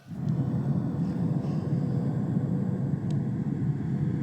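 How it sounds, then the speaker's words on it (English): A steady, low bass rumble like an airplane cabin drone, played from a Bluetooth speaker, continuous and even throughout with no voices. "When you're flying in a plane, there's sort of like a low bass rumble."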